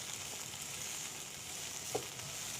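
Chickpea pulao ingredients sauté in a pan with a soft, steady sizzle at close range, with a faint stirring scrape partway through.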